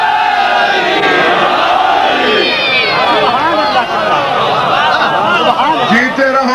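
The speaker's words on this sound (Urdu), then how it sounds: "مولا علی کے نام کا نعرہ لگا کے دیکھ" A crowd at a majlis chants a loud, fervent religious slogan in Mola Ali's name, many voices rising and falling together in sustained, overlapping cries that fill the space.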